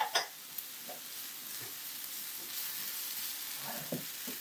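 Garlic sizzles and fries in a pan, a steady soft crackling hiss with occasional scraping clicks as it is stirred, close and fairly quiet with no talking.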